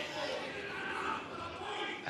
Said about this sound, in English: So a big cheer here, and all the Finnish contingent in just behind us